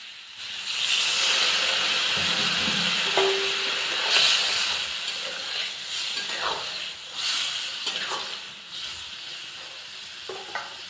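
Spiced potato, pointed gourd and pumpkin simmering in a pan hiss and sizzle loudly as a little water goes in, with steady steam noise, a few stirring scrapes and clicks, then easing slightly.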